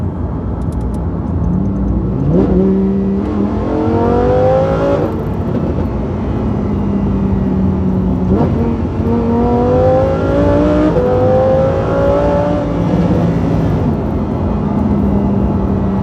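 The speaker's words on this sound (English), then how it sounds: "Man, this car's fast." A fast car accelerates repeatedly, each loud, close run climbing in pitch through the gears before easing off, with three or four distinct surges of rising engine roar and no talking.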